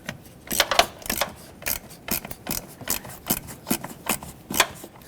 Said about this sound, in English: if you have a ratchet wrench, you can stick your hand right down here and get this off